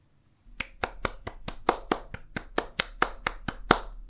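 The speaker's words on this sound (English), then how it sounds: "I'm clapping." About a dozen sharp hand claps at a steady, even pace, close and loud against near silence.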